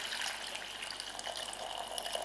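Broth being poured slowly into a transparent saucepan, a steady soft liquid trickle and gush running alone at low level throughout.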